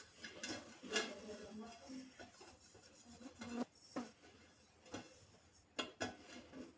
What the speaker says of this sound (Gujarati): સરસ રીતે આ રીતે મિક્સ કરી દેવાનું છે. મિક્સ કરી આ રીતે આમ કાંઠે પણ આપણે મિક્સ કરવાનું છે.